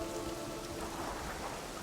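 Steady rain falling, a soft even patter and hiss filling the brief stretch, faint and with no voices.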